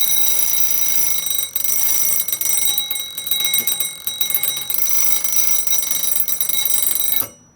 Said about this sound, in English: We'll trip the alarm,